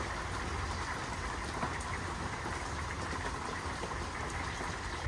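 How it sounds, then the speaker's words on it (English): Light rain patters on the roof of a small full-time camper, a soft, even hiss with faint scattered droplet taps that holds steady and quiet throughout, with no talking. "This is honestly one of my favorite parts about camper living is the light rain that you hear."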